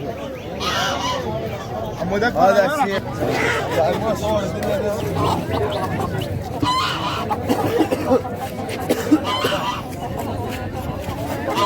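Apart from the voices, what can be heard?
rooster at a bird market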